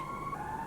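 A city siren comes through an open window, a steady wailing tone that shifts pitch slightly, fairly distant over faint background noise.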